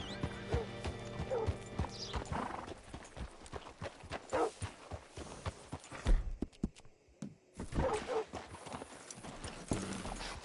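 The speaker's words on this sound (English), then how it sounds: "Hitch your horse up here." Horse hooves clip-clop in a steady walking rhythm, close by, with a brief whinny and light mechanical rattles mixed in, in Red Dead Redemption 2.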